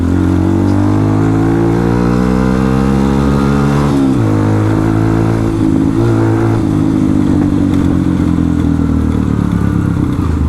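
Modified Bajaj Platina motorcycle engine running loud and close, idling then revving up and settling with rising and falling pitch.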